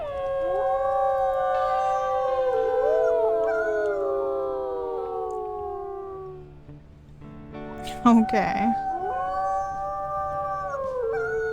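Several wolves in the video game WolfQuest howl together in a loud, layered chorus of long gliding tones, fading briefly before a sharp yip and a fresh rising howl; a voice speaks briefly over it.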